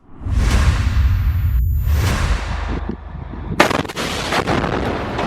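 Loud gunfire aimed at Israeli tanks in the Israel-Hamas war: heavy booming blasts with whooshing sweeps, then a sharp crack followed by a denser burst of shots.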